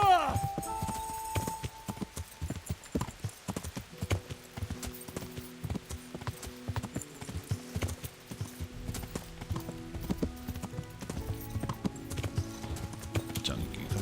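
A horse's hooves clip-clop steadily at a walk in the video game Kingdom Come: Deliverance, a close rhythmic clatter that runs throughout with soft game ambience behind it.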